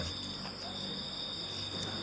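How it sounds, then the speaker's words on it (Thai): Crickets and frogs calling from rice fields around a house at night, a steady high insect trill running without a break with a dense low chorus beneath it, faint and continuous. "เสียงจิ้งหรีด เสียงกบเสียงเขียดมันจะดังหน่อยนะ"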